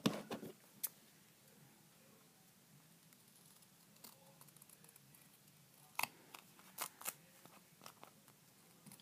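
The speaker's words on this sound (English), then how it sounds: "I just prefer to use a pair of non-stick scissors." Non-stick scissors snipping excess duct tape on a coin pouch, a few quiet, sparse cuts and crinkles, close and faint, with a louder cluster of snips near the end.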